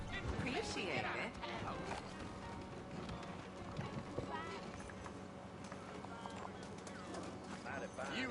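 Horses in Red Dead Redemption, hooves clip-clopping at a trot amid game ambience and music, with someone talking over them.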